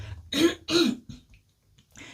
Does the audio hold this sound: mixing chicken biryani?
no